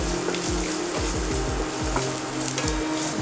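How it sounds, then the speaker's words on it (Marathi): Ginger and garlic sizzle and crackle steadily in hot oil for a stir-fried desi Chinese dish, a loud close frying hiss with faint stirring scrapes and no talk. "तेल तापलेला आहे। त्यात आता आलं घालूया, लसूण, हे आता चांगलं परतवून घेऊया।"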